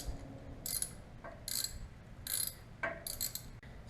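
Small silver bolts being snugged up with a star bit into the threaded frame holes of a Harley-Davidson Iron 883 Sportster, giving a few separate ratcheting, clicking bursts with pauses between them, faint and close against a quiet background.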